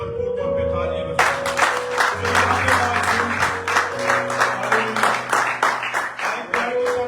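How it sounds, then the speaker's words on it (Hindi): Church congregation at a Sunday Urdu service clapping loudly and steadily for about six seconds. Sustained musical tones run underneath, and voices can be heard over the clapping. "आइए अपने अजीम खुदा के लिए भरपूर तौर पे तालियां बजाएं।"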